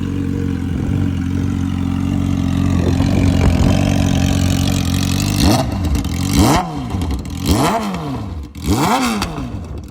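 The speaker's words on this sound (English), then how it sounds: "First ride with the new exhaust." A Yamaha R6 sport motorcycle with a new aftermarket muffler-box-eliminator exhaust idles with a steady rumble, then blips the throttle in four sharp, loud revs that rise and fall in quick succession, close to the bike.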